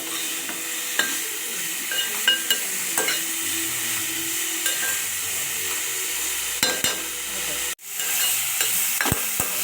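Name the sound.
stirring a frying mixture in a pan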